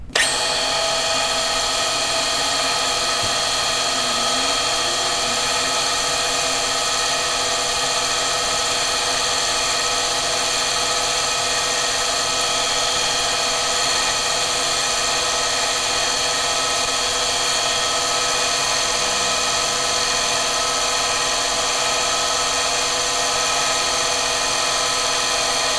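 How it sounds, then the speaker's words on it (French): A soft rotary brush buffing the metal finish of a firearm during cleaning and repolishing gives off a steady, unbroken whirring drone for the whole stretch, with no talking. "on va passer sur une brosse plus douce qui va permettre, encore une fois, de rattraper un peu la couleur"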